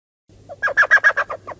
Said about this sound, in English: Here's a tiny elf owl.